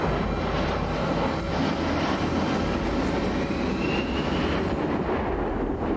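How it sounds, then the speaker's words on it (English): A fully automated, computer-flown airplane gives a steady, loud, broadband engine roar that holds unchanged throughout, with no voices. "This is the first fully automated plane"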